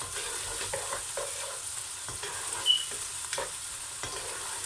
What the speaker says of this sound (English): you're only going to cook the ginger and garlic off for 2 or 3 minutes